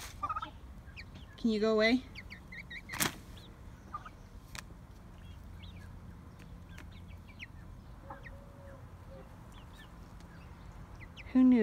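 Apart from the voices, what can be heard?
turkey gobbling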